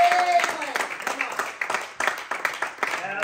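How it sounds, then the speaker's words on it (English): A church congregation claps for a preacher's remark, a crowd of hands pattering under a voice speaking over it. "Give him a hand clap"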